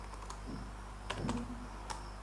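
Typing an SQL command on a computer keyboard, a few scattered key clicks and a short burst of taps over low background hum, close and fairly quiet.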